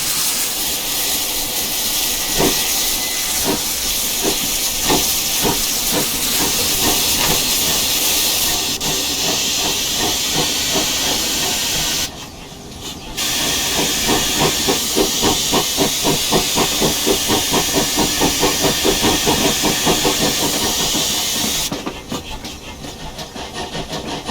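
A GWR Pannier 0-6-0T steam tank locomotive in Train Simulator Classic gives a loud, continuous hiss of steam. A rapid chuffing rhythm runs beneath it, and the hiss briefly drops out twice.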